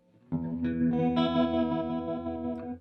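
Electric guitar played through an OBNE Expression Ramper tremolo pedal set to full intensity, giving a woozy, wavering tone; a single sustained chord rings out alone and close for a few seconds before fading.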